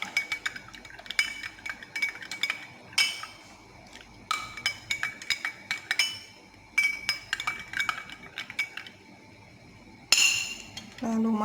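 A spoon stirs a turmeric mixture with water for a homemade cough remedy, making repeated bright clinks against a glass or bowl in irregular bursts, close and clear, with a sharper clatter near the end.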